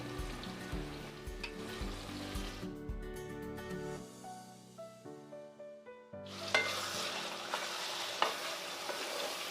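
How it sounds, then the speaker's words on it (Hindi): Ginger, garlic and powdered spices frying in a pan on low heat: steady sizzling with occasional stirring scrapes, fairly close, while a soft tonal background plays underneath. "गैस को अब स्लो कर देंगे और थोड़ी देर मसाले को अच्छे से हम भून लेंगे"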